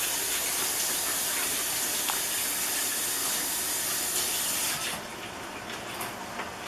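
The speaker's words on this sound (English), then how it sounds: "I'm gonna rinse my hands." Running tap water gushes and hisses steadily over hands being rinsed in a home kitchen, close and fairly loud, then drops to a softer trickle near the end.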